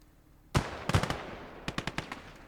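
Bursts of machine gun fire in an Ostfront war game on the German offensive: one heavy opening burst, then several sharp rapid volleys and a string of spaced shots, loud and fairly close.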